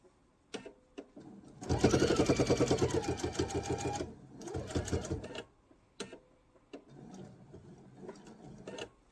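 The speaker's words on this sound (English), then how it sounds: "So I just need to sew down to that line." A sewing machine stitches the binding down on a quilted table runner, running in one long steady burst, then a shorter run, then a few brief stitch spurts close up.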